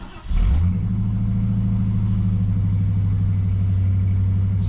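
A 1974 Ford Galaxie engine cranks briefly and catches, then settles into a steady, loud idle with a low rumbling drone that holds without talk.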